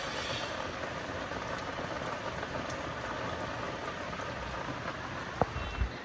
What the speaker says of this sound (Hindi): तो ये बारिश तो नहीं रुकने वाली